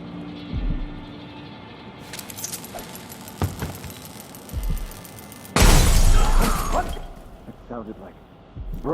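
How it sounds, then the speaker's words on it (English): Glass shatters in the video game Dishonored 2: a bright burst of breaking and scattering shards cuts in midway through, over game ambience and background dialogue from characters. "Sounded like broken glass."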